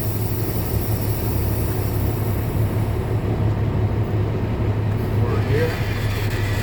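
A tractor truck with its air brakes released rolls forward at about 5 miles an hour. It makes a continuous low engine hum and rumble at steady loudness throughout.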